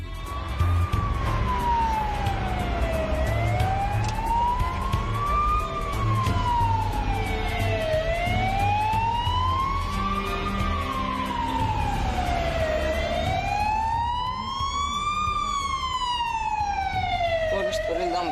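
An ambulance siren wails in slow rising and falling sweeps, loud and close, holding steady as it passes with traffic rumble underneath.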